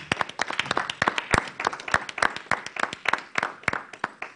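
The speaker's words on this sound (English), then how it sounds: "Can we give a round of applause to ourselves?" A conference audience at an education training event applauds themselves, a sparse round of distinct, sharp claps from a smallish group, close and irregular, continuing steadily throughout.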